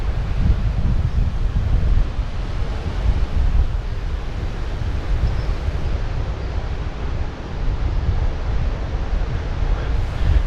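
Ocean surf breaks continuously along a Dominican Republic shore near a lagoon, a dense, roaring wash with strong wind buffeting the microphone throughout.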